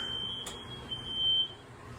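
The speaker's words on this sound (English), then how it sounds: "you do hear my smoke alarm going off" A thin, steady high-pitched kitchen smoke alarm tone whines in the background with gaps during cooking, faint beneath low room noise and a brief click.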